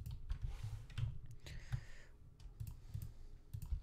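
Keys on a computer keyboard are pressed during Adobe Illustrator work, giving several close, sharp clicks in an uneven rhythm over a low background rumble.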